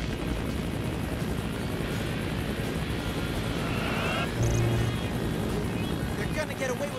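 Steady rotor drone of a helicopter in the video game TMNT 2003, loud and continuous beneath game sound effects and character speech, with a short burst of louder noise in the middle.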